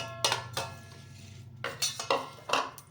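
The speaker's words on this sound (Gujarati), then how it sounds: "હવે આ બટેટા છે એ આમાં આપણે નાખી દઈશું" Boiled potatoes go into a pan of spiced garlic chutney for bhungra bateta, with several sharp clinks and scrapes of a metal spoon against the pan between quiet pauses.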